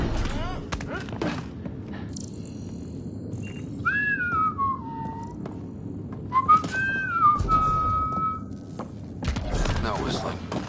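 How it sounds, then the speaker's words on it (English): A character whistles in the Mass Effect Andromeda video game: two sliding, tuneful phrases with a pause between, over low game ambience with occasional thumps and clicks. "No whistling."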